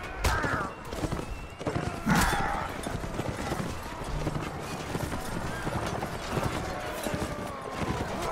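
Horses galloping in the video game Mount & Blade, dense rapid hoofbeats with a whinny and battle clatter, loud and continuous for several seconds.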